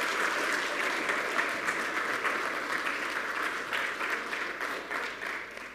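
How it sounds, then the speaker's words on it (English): Easter Sunday congregation at a Baptist church claps steadily in sustained applause for several seconds, fading slightly toward the end. "Let's give all three of them a round of applause."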